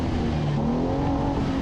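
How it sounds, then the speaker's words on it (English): Race car engine free revving during a dirt track race, a steady loud droning engine note with a slight rise in pitch, close and continuous with no talk. "Give it the old Italian tune-up, throw a couple free revs."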